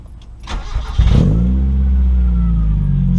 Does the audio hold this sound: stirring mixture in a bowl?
no